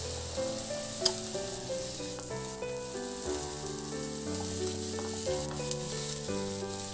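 Onions, potatoes and carrots fry in a pan and are stirred now and then. A steady, soft sizzle with occasional scraping sits under continuous background music.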